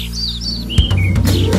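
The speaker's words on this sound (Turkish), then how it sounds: "Aldım götürdüm evime, cik cik cik cik ötsün diye." A small bird chirps in a children's song, giving short, high tweets in quick succession over a low musical backing with soft beats.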